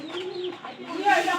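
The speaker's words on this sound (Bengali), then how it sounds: "কবুতর গুলা ঘরের ভিতরে যাইতেছে" Pigeons coo softly nearby in a brief, low, rolling call, fairly quiet against faint background noise.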